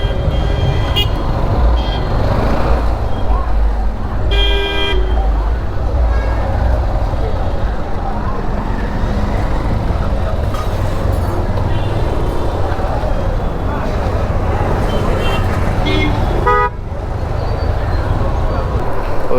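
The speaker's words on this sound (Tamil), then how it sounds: "டிராஃபிக் ஆரம்பிச்சிருச்சு" Road traffic on the Yercaud hill loop road: steady engine rumble from cars and buses with a few horn toots, heard close and continuous, with people talking over it.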